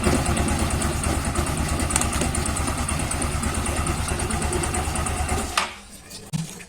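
A motorcycle with a CVT transmission idles steadily and smoothly up close with its clutch cover open, the engine hum unbroken for several seconds before it cuts off abruptly, followed by a couple of faint knocks.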